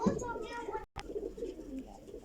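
Breeder pigeons on a rooftop loft give low, soft cooing calls, repeated in short rounds, with voices talking nearby throughout.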